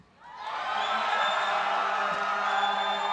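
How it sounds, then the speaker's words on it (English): An esports arena crowd of League of Legends fans cheers for Team Fear, a broad roar that swells quickly and holds steady, loud and sustained with no single voice standing out. "Give them a cheer."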